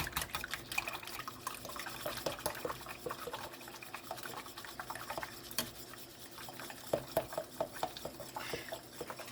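A mini whisk clinks and scrapes steadily against a pot as egg yolks are stirred in for a low-carb lemon filling, with light metallic taps and liquid sloshing, close and fairly busy, no talk.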